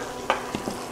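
Butter sizzling in a frying pan, a soft steady hiss with a couple of brief clicks or scrapes, quiet and close, lasting about a second.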